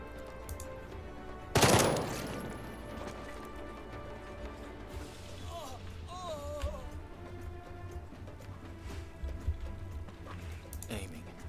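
A single loud, sharp gunshot from a weapon in the video game Jagged Alliance 3 cracks out early, then fades into quieter game ambience with faint warbling tones.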